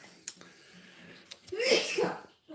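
A single person sneezes close by: a short intake, then a sharp, loud burst with a second gusty push, followed by a brief catch of breath in a quiet indoor room.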